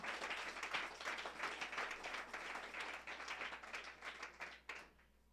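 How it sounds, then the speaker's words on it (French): A church congregation clapping for the Lord Jesus in a bright burst of applause, many hands rattling steadily before fading off near the end, fairly faint and distant. "Clap more for the Lord Jesus"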